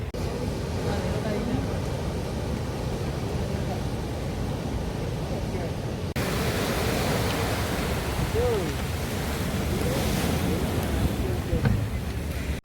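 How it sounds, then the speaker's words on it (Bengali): Sea wind and breaking waves on Colombo beach at sunset form a steady broadband rush, with a slightly stronger surge partway through and faint voices in the background. "খুব সুন্দর একটা হাওয়া দিচ্ছে এখানে"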